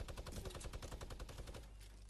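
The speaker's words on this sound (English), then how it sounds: "Who's shooting at us and where from?" Rapid automatic gunfire in the video game Fortnite, a fast even burst of shots lasting about two seconds, heard alone without talk.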